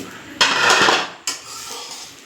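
A metal pan lid clanks as it is set on and lifted off a pan while jol ruti bread cooks, two separate sharp contacts, each with a short ringing, hissing tail, close and clear with no talking.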